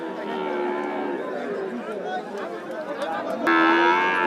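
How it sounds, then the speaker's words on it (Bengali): Cattle, calves and heifers at Rajshahi city livestock market moo loudly and repeatedly, one close call rising near the end, over steady crowd chatter and market bustle. "এখানে বকনা বাছুর পাওয়া যাবে এবং ওই সাইডে বকনা বড় বড় বকনা আছে"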